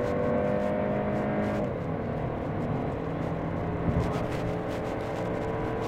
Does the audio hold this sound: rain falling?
no